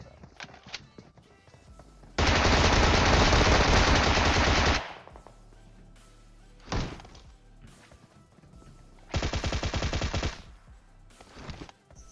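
Automatic gunfire from a Bizon and other weapons in the PUBG Mobile game, with two long loud sustained bursts and a shorter one between quieter stretches of scattered shots.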